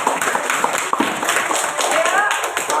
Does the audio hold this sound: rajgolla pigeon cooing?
no